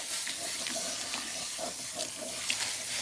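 A tap runs steadily as hair is rinsed at a salon-style wash, a continuous close hiss of water with small splashy bursts and no talking.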